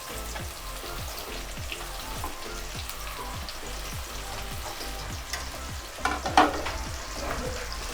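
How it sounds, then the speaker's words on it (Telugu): Coated fried chicken pieces tossed and stir-fried in a hot pan for chilli chicken, a steady close sizzle and frying hiss with rhythmic scraping stirs, a louder clatter near the end. "వెంటనే చక్కగా కోటింగ్ చేసి ఫ్రై చేసుకున్న చికెన్ వేసేసుకుందాం."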